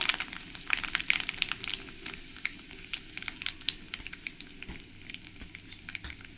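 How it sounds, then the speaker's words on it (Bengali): Nigella seeds and dried chillies crackle in hot oil, a close, quiet spattering sizzle full of rapid tiny pops, busiest at first and thinning slightly over the seconds. "এরপরে আমি দিয়ে দেবো এর মধ্যে এক চামচ কালো জিরে দুটো তিনটে শুকনো লঙ্কা"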